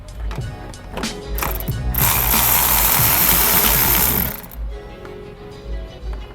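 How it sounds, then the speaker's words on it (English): Ratchet wrench loosening a 10mm nut that holds the intake to its mounting bracket on a 2015 Subaru Forester, with a dense, loud burst of rapid mechanical clicking lasting about two seconds amid quieter handling noise. "you're going to want to remove the 10mm nut that's holding the intake onto the mounting bracket"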